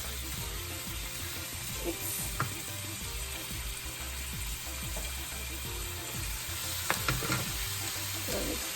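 Ground beef sizzles and fries in a pan for taco samosas, a constant crackling hiss with occasional scrapes and clicks of stirring, moderately quiet and close.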